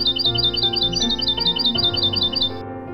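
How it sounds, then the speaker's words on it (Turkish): Birds in Tokatlı Canyon chirp in a quick repeated series of bright tweets, steady and fairly close, over a faint background hum. "Su kemeri ve ruhunuzu dinlendiren kuş cıvıltılarıyla Tokatlı Kanyonu"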